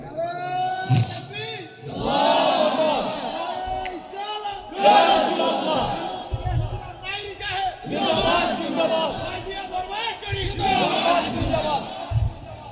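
Crowd at an Islamic waz gathering for the 706th Urs of Shah Jalal shouts a slogan in loud collective bursts, several rising and falling waves of massed voices with brief pauses between.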